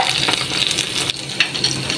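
Sambal chili sizzling and being stirred in a frying pan for a shrimp dish, a loud continuous crackling fry with scraping stirs close up.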